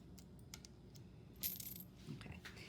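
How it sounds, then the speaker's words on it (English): Pennies set down on a paper towel during a chemistry activity with coins: a few soft, muffled metallic clinks and light taps, quiet and close, spaced irregularly with brief rustles. "place the pennies on the paper towel"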